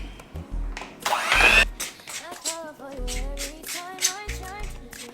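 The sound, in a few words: mixing ripe bananas and eggs for muffins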